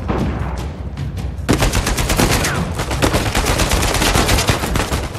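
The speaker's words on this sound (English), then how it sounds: "Oh my God, we're being shot at both sides now." Gunfire in the action game Uncharted 4: a few scattered shots, then a loud, rapid burst of automatic fire hammering steadily close by, with no talk over it.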